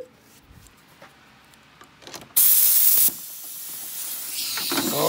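Quiet handling knocks come first, then a compressed air line hooked to an air hammer lets out a sudden loud burst of hissing that drops back and continues as a sustained, slowly rising hiss.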